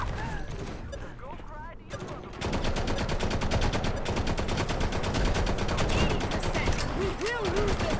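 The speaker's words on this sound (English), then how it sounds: "Something is shooting at me, and I don't know what." Rapid automatic gunfire from the mobile shooter game Modern Combat Versus breaks out after a quieter opening and continues as a dense, steady stream of shots with brief whooshing effects.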